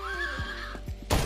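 A donkey brays inside a video game: a drawn-out tonal call holds for about a second, then a short harsh burst follows, close and fairly loud, with no talking over it.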